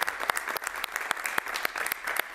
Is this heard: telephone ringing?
no